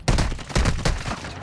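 Video game gunfire in bursts, several loud rapid volleys of shots with short gaps between them, close and sharp.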